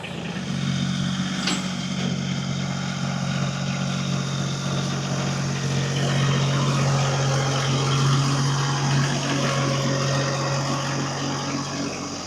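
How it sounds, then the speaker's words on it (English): A tractor engine runs steadily at a rural homesite, a close, continuous low drone with no pauses and no talking. "that tractor has been the best piece of machinery we've bought for living out here"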